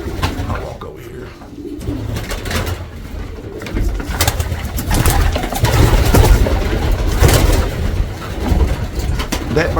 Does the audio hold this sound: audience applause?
no